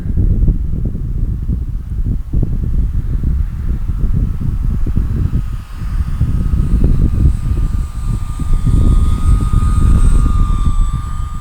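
An RC T-28 model airplane, 1100 mm scale, makes a low pass down the runway. Its engine gives a steady, loud, buzzing drone with wind noise, rising slightly as it passes by, with no talking.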